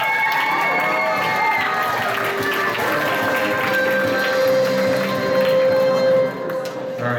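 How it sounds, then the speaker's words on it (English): A convention crowd at an anime-style quiz show cheers and claps for a winner, a busy mix of shouts, whoops and scattered applause with high voices ringing out over the noise. "Let's give her a round of applause, guys."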